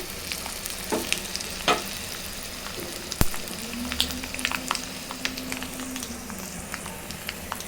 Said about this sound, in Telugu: చిటపటలాడాలి